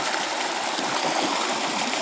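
Floodwater rushing across a farm road near Vadgaon Phanepur, a steady broadband wash of flowing water that stays close and loud for the whole stretch with no pause.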